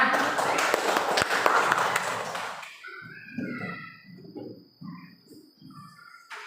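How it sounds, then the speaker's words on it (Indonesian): Children in a classroom clap their hands in a loud, rapid burst lasting a couple of seconds. It stops abruptly, and a voice follows, speaking alone. "Tepuk tangan semuanya."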